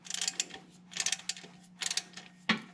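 A ratchet clicks in short bursts while loosening the transmission drain bolt on a 2006–2011 Honda Civic automatic, with rapid close metallic ticks in three runs and a sharper knock at the end.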